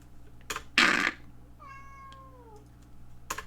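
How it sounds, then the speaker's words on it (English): A pet cat gives one drawn-out meow with a falling pitch, close and clear, framed by brief scuffs and clicks in an otherwise quiet indoor room. "My cat. Check it out. My cat's down here."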